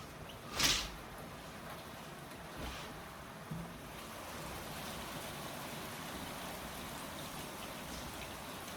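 Rain falling outside makes a steady, soft hiss at a low level, with a brief louder knock early on and no voices.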